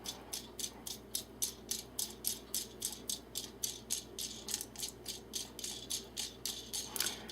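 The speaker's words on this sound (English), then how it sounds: "Then I'll take a lock washer and we'll put this nut on top." Small metal hardware clicks and rattles as a lock washer and nut are threaded onto a bolt for a hunting camera mount, a steady run of about two dozen quick, evenly spaced close ticks with no talking.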